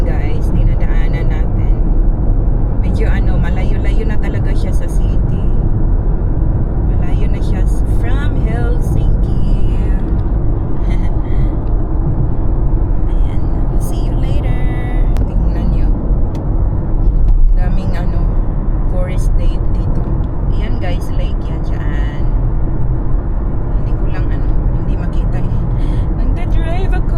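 A car drives along a road toward Porvoo, Finland, with a constant loud rumble of engine and tyres running through the whole stretch while a voice talks over it now and then.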